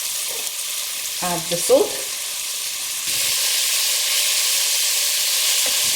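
Onions frying in hot oil with softened garlic and ginger for a chicken pulao, a steady broadband sizzle that grows louder partway through, with a brief spoken line and a few utensil clinks near the start.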